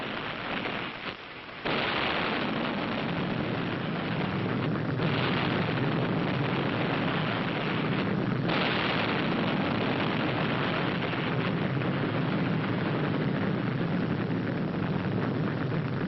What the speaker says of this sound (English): The fire raged as bombs, rockets, and small caliber ammunition continued to explode with increasing violence.